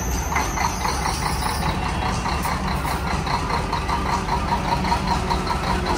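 The engine of an 800-horsepower Formula Truck racing truck idles with a deep, steady, rough rumble, loud and close throughout with no talk.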